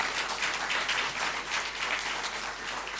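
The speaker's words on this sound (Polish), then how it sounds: "poproszę o brawa na naszych debatantów" Applause for the debaters at a debate event, a steady wash of clapping from a moderately sized audience heard at a slight distance and holding a fairly even level throughout.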